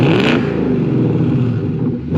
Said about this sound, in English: in terms of the way this thing sounds from the outside and when it's revving